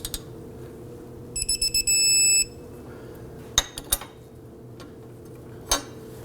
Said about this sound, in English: Let's torque the outer bolt here to 89 foot-pounds.